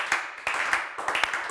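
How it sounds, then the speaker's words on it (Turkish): Brief applause, a few scattered rapid claps from a small group, close and moderately loud, lasting under two seconds. "Üzgün alkış"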